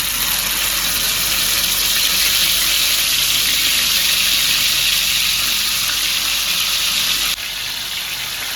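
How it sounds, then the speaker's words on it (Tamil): Marinated vanjiram fish sizzles on a hot tava, a steady bright crackling hiss that holds evenly for several seconds before dropping abruptly to a quieter sizzle. "வாங்க தவால போட்டு வறுக்கலாம்."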